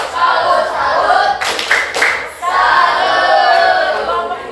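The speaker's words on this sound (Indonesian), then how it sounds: "Kelompok 4, tepuk salut." A classroom group performs a rhythmic salute clap (tepuk salut), loud close hand claps in steady patterned bursts with a short break in the middle, mixed with the group chanting along.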